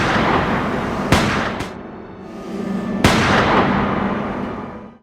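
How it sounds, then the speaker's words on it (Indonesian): Two or three sharp gunshots ring out in a film scene, one near the start, a quick second after it, and another a couple of seconds later, each cracking loudly over a steady background hum. "para kepolisian mendengar suara tembakan lagi"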